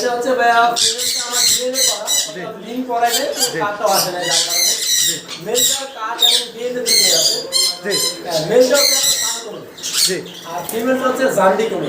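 A pair of sun conures and a jenday conure squawk at a bird farm, the harsh, loud calls coming close and almost nonstop with barely a pause, while people talk underneath.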